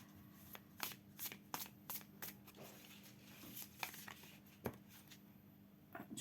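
Tarot cards are shuffled quietly up close, a run of soft riffling snaps and flicks in an irregular rhythm, with no talking.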